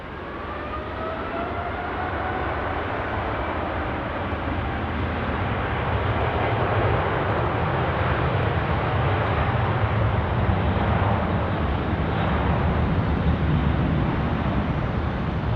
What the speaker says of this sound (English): All Nippon 880, departing now, 16 right off to Haneda.